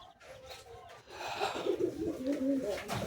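Pigeons coo softly in a home pigeon loft, low rolling calls repeating close by over faint background noise.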